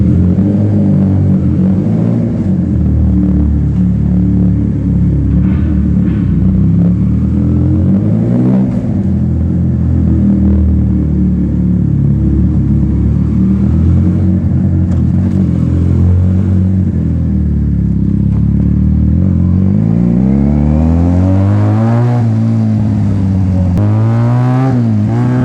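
A Benelli TNT 300 motorcycle with a very loud aftermarket exhaust, ridden at night and heard from onboard, roars continuously with deep engine drone, throttle swells and rising revs through gear changes.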